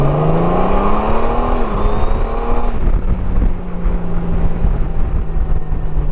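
A 2021 Honda Goldwing DCT motorcycle accelerating hard, its engine note climbing steadily in pitch with a shift around the midpoint, loud and close, then settling into a sustained drone with wind rush.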